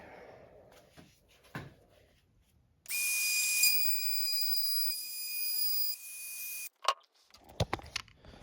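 A DeWalt 20V cordless router (DCW600B) with a 1/4-inch bit and a dust-free hood starts up and cuts across a board, a loud, steady high-pitched whine for about four seconds that winds down, with handling knocks before and after.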